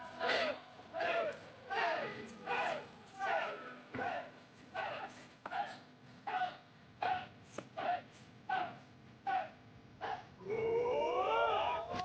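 Crowd cheering in bursts at an impromptu idol concert in an anime episode, with rhythmic chant-like shouts repeating every second or so, then sustained cheering and a rising voice at the end.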